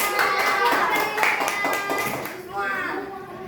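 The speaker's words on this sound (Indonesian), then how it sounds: "Oke, tepuk tangan." A classroom of students clapping their hands together in dense, fairly loud applause that carries throughout, with voices chattering underneath.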